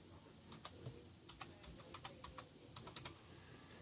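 Keys on a computer keyboard clack in quick, uneven bursts as a terminal command is typed, faint and close in a quiet room.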